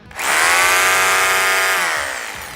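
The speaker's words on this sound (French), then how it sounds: "on a une perceuse de 780 watts" A 780-watt electric drill powered from a portable battery station spins up quickly and whines at a steady high pitch while running free, then begins to wind down at the end; no one speaks.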